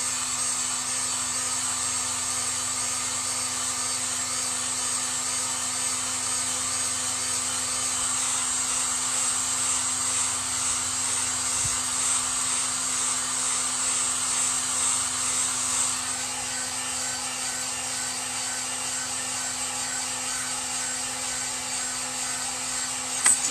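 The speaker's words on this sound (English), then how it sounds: "use your heat gun on the glue" A heat gun blows hot air onto hot glue, giving a loud, steady high-pitched whine and whoosh close by that holds constant throughout, dipping slightly partway before a faint knock at the very end.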